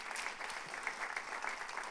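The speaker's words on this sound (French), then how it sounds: "On peut s'applaudir, merci Seigneur." A church congregation at a Sunday service claps briefly, a soft, distant patter of many hands.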